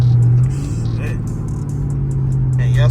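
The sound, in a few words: Chrysler 300C AWD Hemi engine while driving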